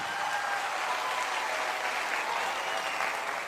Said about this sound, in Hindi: एक जोरदार तालियां अपने आप के लिए।